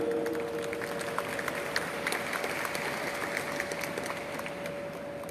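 An audience applauds to welcome the Goa Assembly Speaker at a National Women's Parliament inauguration, a dense, steady roar of clapping that holds at even loudness throughout, with some crowd noise mixed in.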